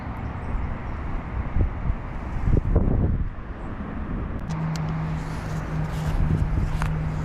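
Steady wind rumble buffeting the microphone outdoors at a fishing lake during a match, with a low engine hum joining partway through and a few faint knocks.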